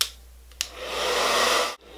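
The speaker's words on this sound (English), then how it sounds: "I like to heat up my metal eyelash curler with my blow dryer" Handheld blow dryer heating a metal eyelash curler: a small click, then a close, steady whooshing blast for over a second before it abruptly shuts off.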